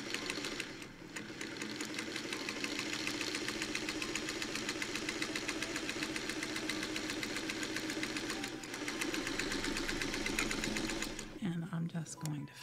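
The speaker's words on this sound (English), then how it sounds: "we are taking our first two pieces and we are running them through the" A sewing machine runs steadily while stitching quilt pieces together, a fast continuous mechanical whirring and rattling that stops near the end, followed by brief handling sounds.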